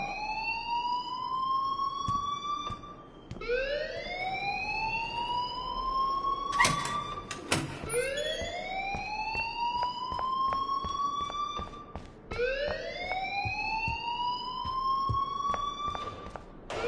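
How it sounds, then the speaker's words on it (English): A rising-and-falling electronic alarm siren wails in the video game Life is Strange, sweeping up in long repeated cycles every few seconds, loud and steady with no talk over it. "please turn off that alarm since that's your job."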